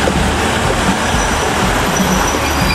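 The Hida No. 3 limited express train on a Japanese line rumbles steadily past on a siding, close and loud, with continuous wheel and rail noise and faint squealing throughout, no voices.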